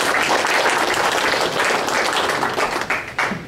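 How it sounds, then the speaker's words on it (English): A round of applause from a club meeting audience, dense steady clapping from many hands throughout, fairly loud and close, with no one talking over it. "If you could please give them a round of applause."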